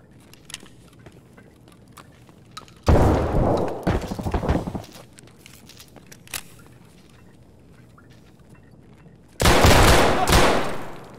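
Two loud, close bursts of shotgun fire from an MTS-255 revolver shotgun in the Escape From Tarkov video game, separated by quieter stretches of faint game noise and movement.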